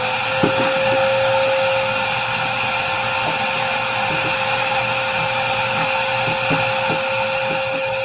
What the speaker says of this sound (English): Let me get the vacuum. That's too much sawdust there.